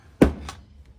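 A resin mould filled with powder and resin is banged down on a hard surface to release bubbles: one sharp, close thunk followed by a softer second knock, then quiet.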